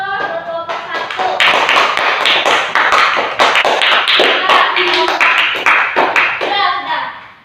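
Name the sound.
classroom applause for a group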